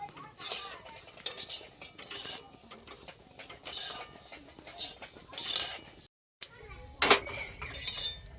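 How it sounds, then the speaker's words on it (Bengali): Spices for a green chilli pickle lightly frying and being stirred in a pan, with scraping and clinking of a metal spoon against cookware in irregular strokes, fairly close, with a brief quiet gap before a few louder clinks. "এইভাবে হালকা করে ভেজে নিতে হবে।"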